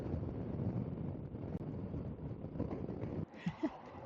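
Steady wind buffeting a microphone outdoors on a road trip near Canmore and Banff, a broad continuous rumble lasting nearly the whole stretch before briefly dropping out, with a few gusty thumps at the end.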